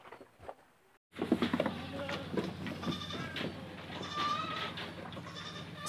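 Kacang goats on a farm in West Sumatra bleating repeatedly, close and fairly loud, with overlapping wavering calls over steady background insect buzz.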